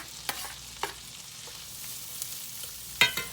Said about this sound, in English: now that our butter's starting to get real good and hot, we're going to add our onion in there first